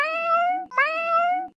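Two drawn-out meows from kittens, one after another with a short break between them, close and clear with no other sound around them.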